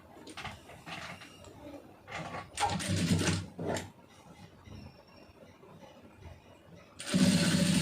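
A sewing machine stitches piping onto a blouse neckline in short, separate runs of whirring, alternating with pauses and faint handling noise.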